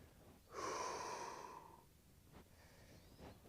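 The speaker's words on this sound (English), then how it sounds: "Breathing deeply." One deep, long breath drawn in and let out during a stretching routine, close and clear, followed by two faint shorter breaths in quiet.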